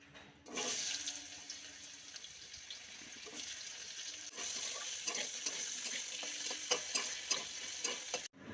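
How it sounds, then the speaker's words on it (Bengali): Potatoes frying in oil left from frying chapila fish, a continuous close sizzle with occasional stirring scrapes and small pops, no voices present. "মাছ ভাজা তেলের মধ্যে আলু ভেজে নেব।"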